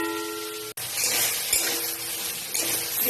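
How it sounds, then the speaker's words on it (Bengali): Soybean chunks fry in a pan over a medium flame, giving a loud, steady sizzle that starts abruptly after a brief gap and continues without any talking. "মিডিয়াম ফ্লেমে রেখে ভেজে নেব সয়াবিন গুলো।"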